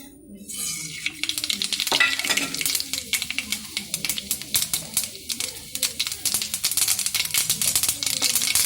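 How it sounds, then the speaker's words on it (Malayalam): Mustard seeds dropped into hot coconut oil crackle and pop in a dense, rapid, loud spluttering that builds after the first second and continues steadily, with a faint stirring clink. "വെളിച്ചെണ്ണ ചൂടായിട്ടുണ്ട്, അതിലേക്ക് നമുക്ക് കടുക് ഇടാം."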